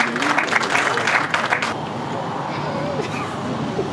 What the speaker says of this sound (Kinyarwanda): mumushimire n'amashyi menshi